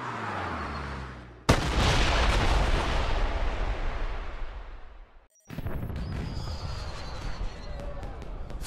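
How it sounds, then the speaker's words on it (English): Fireworks exploding in the Blood Stone 007 video game, a sudden loud burst followed by several seconds of roaring, crackling blasts, a short gap, then more bangs and whistling rockets mixed with game sound. "Did you know there were going to be fireworks?"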